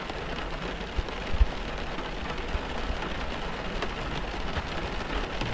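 Steady rain falling as an audio drama sound effect, a soft even patter on a surface with a few louder drops and light knocks, alone without voices.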